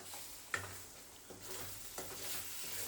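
Eggs are stirred and fried in a pan for egg curry, a soft continuous sizzle with a few scraping strokes of a spatula against the pan, close and fairly quiet, with no talk.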